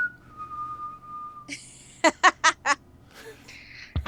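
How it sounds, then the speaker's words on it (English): A sustained whistled tone, followed by a short burst of several bright, rhythmic bursts like chuckling and another higher whistle, fairly close and clear. "Whistling is a way to feel."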